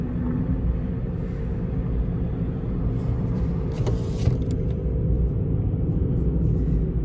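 Steady low road noise and tire rumble fill the cabin of a 2017 Mitsubishi Mirage G4 with about 108,000 miles, driving slowly in traffic, continuous and fairly loud, with a few faint clicks.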